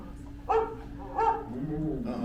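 Two short dog barks or yips sound close by, followed by a low whimpering whine at the end.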